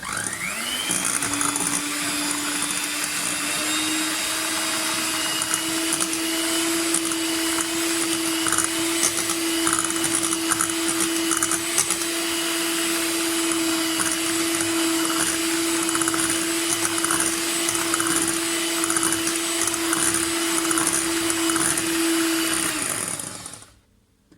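An electric mixer whisks cake batter made with oil and yogurt, a loud steady whine that holds at one pitch for about twenty seconds before switching off.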